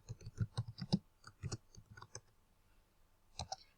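Computer keyboard keys tapped in a short quick burst of faint, close clicks, a pause, then a couple more clicks at the end while a folder name is entered.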